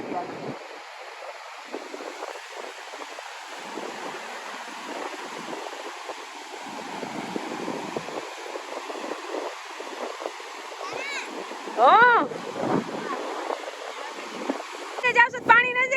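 Sea waves and wind wash against the shore in a soft, continuous rush, with wind buffeting the microphone, and people talk over it, a voice rising near the end.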